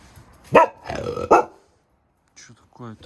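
A dog barks and growls at feeding time beside its puppies, several sharp close barks, then brief whines and yips after a quiet gap.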